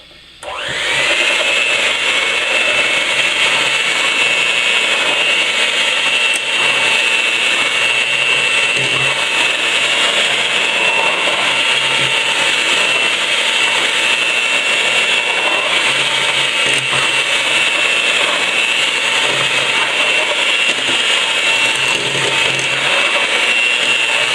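An electric hand mixer whirs steadily and loudly, beating eggs and floating spices together for a from-scratch pumpkin pie, a continuous motor drone that holds for the full stretch without a break.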